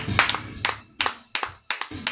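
A congregation claps during a midnight prayer service in acclamation of God, several bursts of hand claps in an uneven rhythm, fairly close and alone without speech.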